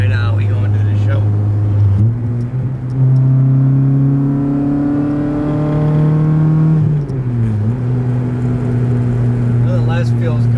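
An Acura TSX with a possible header exhaust leak drives along, its engine droning steadily and rising in pitch through the gears, loud and close from inside the cabin.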